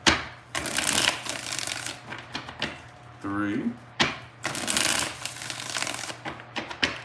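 Tarot cards shuffled in repeated close, crisp bursts with short gaps, while a person speaks briefly between shuffles.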